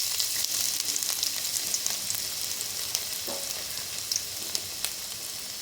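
Chopped ginger fries in a little oil in a pan on the stove, producing a steady close sizzle with scattered crackles and pops and no speech.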